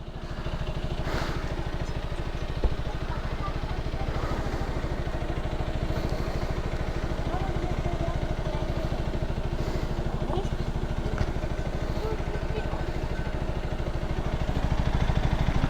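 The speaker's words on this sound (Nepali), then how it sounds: "ठुलो बाइक रहेछ" A big motorcycle idles at a traditional Tamang wedding in Kavre, a steady low throbbing engine running continuously and close, with faint voices in the background.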